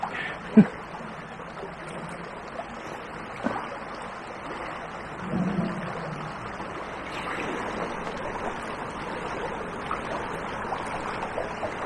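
A small river flows steadily on a winter afternoon, a soft continuous rush of water with a few faint knocks and splashes close by.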